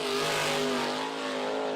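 A USAC sprint car, number 18 driven by Shane Butler, runs at speed at Ocala with a loud, sustained engine drone holding a steady pitch for the whole brief stretch.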